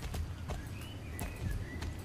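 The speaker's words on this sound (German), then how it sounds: "wie hoch springt denn erstmal das Pferd?" Horse hooves in the video game Star Stable clop at a steady walking rhythm, with several crisp, close, moderately loud hits and faint game tones behind them.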